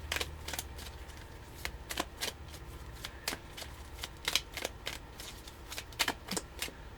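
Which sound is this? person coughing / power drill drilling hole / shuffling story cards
shuffling story cards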